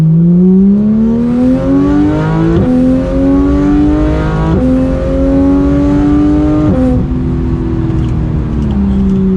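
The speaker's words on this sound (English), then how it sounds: "you might hear a little bit of that exhaust" A 991 Porsche 911 GT3 engine revs hard through several gear changes, the pitch climbing and dropping with each shift, loud and close with exhaust roar.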